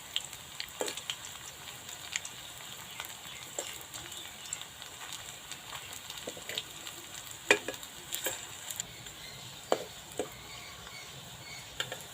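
Medu vada lentil fritters frying in oil, a quiet steady sizzle with faint scattered pops and crackles throughout, no talk.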